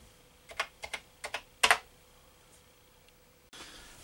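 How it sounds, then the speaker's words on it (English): Keys tapped on a Commodore Vic-20 keyboard make a handful of distinct, close clicks in short bursts, followed by quiet. "So we're typing in"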